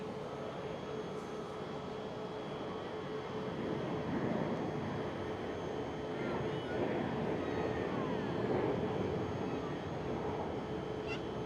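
A British Airways Airbus A321neo at Schiphol airport produces a steady, distant jet engine rumble that swells gently midway and holds throughout.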